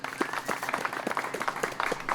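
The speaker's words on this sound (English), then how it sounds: "A big round of applause, please, for Lisa Fajkus" A small outdoor crowd at a disc golf tournament, the 2021 Utah Open final round, applauds a player; scattered, fairly faint clapping with distinct individual claps for a couple of seconds.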